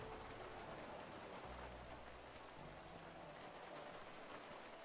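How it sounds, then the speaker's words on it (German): Steady rain falls in a GTA roleplay game world, a faint continuous patter of drops with a low rumbling undertone throughout. "es regnet"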